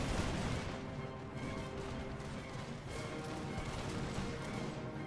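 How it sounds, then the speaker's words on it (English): Cannons firing canister shot on a battlefield in a war video game set in the American Revolution, heard as a fairly quiet, steady stream of crackling gunfire and distant artillery thuds with no pauses. "Canister just rips through the lines here as well."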